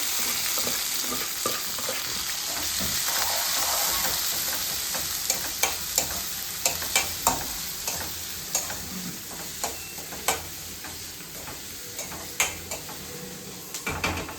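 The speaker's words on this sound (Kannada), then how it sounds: "ಇದು ಆನಿಯನ್ ಫ್ರೈ ಆಗ್ತಾ ಇರಲಿ" Onions fry with mustard seeds and cumin in a pan, giving a steady sizzling hiss punctuated by regular clicking taps and scrapes as the spoon stirs.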